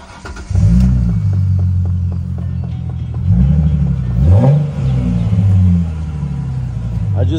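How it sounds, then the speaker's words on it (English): A 2010 V6 Ford Mustang engine cranks and catches, then idles with a deep rumble and is revved several times, the pitch rising and falling, loud and close. "I'm about to start it up and let you guys hear it."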